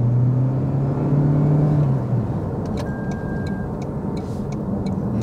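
A 2024 Toyota C-HR GR Sport hybrid accelerating with the pedal floored, a steady loud engine and road drone heard from inside the cabin, with a rising whine fading out partway.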